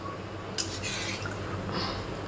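A spoon stirring a potato, cauliflower, capsicum and paneer curry in a pan, with soft scraping clinks against the metal and a wet, saucy shuffle, close and fairly quiet.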